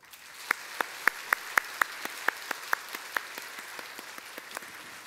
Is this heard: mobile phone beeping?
no